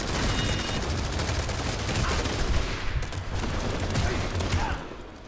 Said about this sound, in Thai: ได้ยินเสียงดังกระหึ่มเลยนะครับเสียงปืนเสียงระเบิด